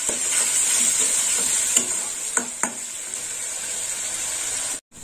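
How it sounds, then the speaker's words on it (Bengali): Spice paste with tomato paste fries in a pan, sizzling loudly and steadily while being stirred, with a few clicks of the spoon against the pan before a brief cut. "টমেটো বাটা দেওয়ার পরে আর একটু কষা হবে।"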